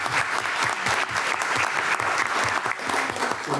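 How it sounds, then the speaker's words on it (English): Applause at a school board meeting, many hands clapping together in a steady, moderately loud round that continues throughout. "How about a round of applause to Ms. Shannon Robinson?"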